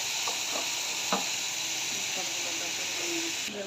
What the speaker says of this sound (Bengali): দিয়ে ডাটাগুলো আমি ভেজে নেব।